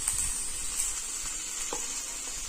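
Fish sizzling in a little hot oil for an Assamese recipe: a loud, steady, bright hiss close by, broken by a few soft crackles and pops.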